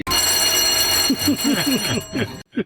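A Lockheed JetStar cockpit fire warning bell, sounded by testing the fire T-handles, rings loud and rapid continuously for about two seconds, then cuts off, followed by a brief short burst of ringing.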